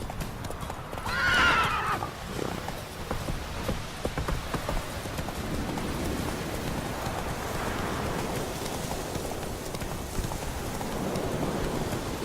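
Horse in The Witcher 3 galloping through rain, a clear whinny near the start followed by rhythmic hoofbeats over steady rainfall, with faint voices in the background.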